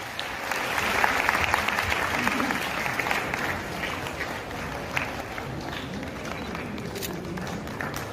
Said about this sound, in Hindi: जरा एक बार पुनः ताली।